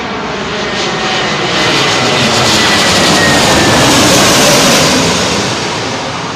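An airliner arriving on runway 27L at London Heathrow passes overhead at sunset, a loud, broad engine roar that swells to a peak and slowly eases, with no talk over it.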